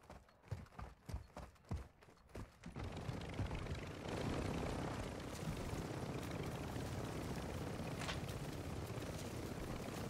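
Helicopter in a video game, a steady broadband rotor and engine drone that rises after a few seconds of sharp rhythmic thumps and holds loud and continuous to the end.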